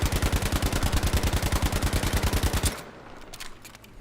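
A weapon in the Battlefield V video game fires a rapid automatic burst on a shooting lane: evenly spaced, punchy shots repeat steadily for almost three seconds, then stop abruptly, leaving a faint echoing tail.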